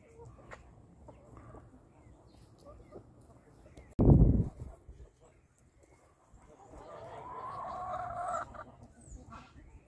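Roosters on a farm cluck and squabble in a standoff, a sharp loud burst midway followed by quieter fowl calls, with a person talking nearby.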